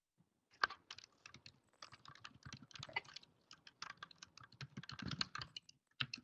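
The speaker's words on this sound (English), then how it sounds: "we're still getting a lot of background noise here on Nautilus. Typing, moving." Keyboard typing in the control van aboard the research ship Nautilus during an ROV Hercules dive: quiet, irregular bursts of key clicks with short pauses, fairly close and steady over background noise.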